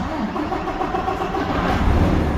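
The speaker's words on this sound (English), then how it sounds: "once the engine is started" A vehicle engine cranks and catches, then settles into a steady mid-pitched running hum, close and continuous for a couple of seconds with no talking.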